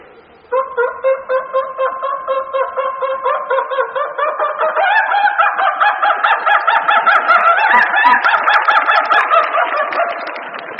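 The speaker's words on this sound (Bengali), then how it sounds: "এই মুরগি দেখবেন বাজ পাখি অথবা চিল পাখি থেকে খুব ভয় পায়। হঠাৎ করে কি বাজ পাখি অথবা চিল পাখি উড়ে গেলে তখন সে ভয় কিরকম ভাবে চিৎকার করে ওঠে।" A frightened chicken screams at a hawk or kite overhead, a loud, close run of rapid, rhythmic squawking clucks that builds and keeps going without pause.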